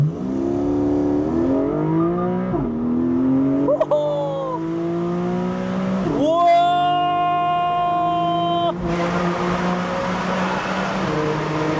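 Porsche 718 Boxster 4.0 GTS flat-six with the top open accelerates hard through several gears, its loud, close rising revs climbing and dropping at each shift, with a brief excited shout from inside the car.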